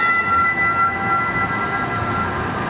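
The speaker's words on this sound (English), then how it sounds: "But it wasn't long before the next Max train came." A Portland MAX light rail train arrives, a steady rumbling roll with a faint high tonal whine from the wheels and motors, moderately loud and continuous with no talk.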